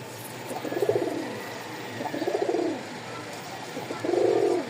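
Three soft, throaty pigeon coos, each rising and fading, with short pauses between them.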